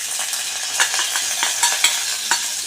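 Cashews and raisins frying in ghee in a pan for aval payasam, a bright close sizzle broken by a few sharp stirring clicks over under three seconds.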